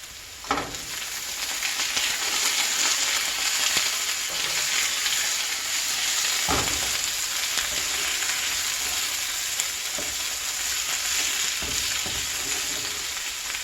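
Garlic sizzles steadily in a pan with asparagus and onions, a loud, continuous frying hiss, broken by a few sharp stirring scrapes and clicks along the way. No voice is heard.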